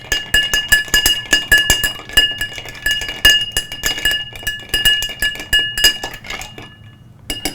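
A blueberry kombucha Collins cocktail being shaken with ice: rapid rhythmic clinking and rattling of ice against a glass shaker, loud and close, in steady pulses that slow and stop near the end.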